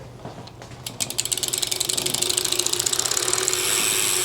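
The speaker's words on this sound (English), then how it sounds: "There it is, that familiar Brompton click" Rapid freewheel ratchet clicking from a Brompton T Line Explore 12-speed folding bicycle wheel being refitted in a bike shop, a steady loud run of close clicks that starts after a second and blurs into a continuous whir, with no talk.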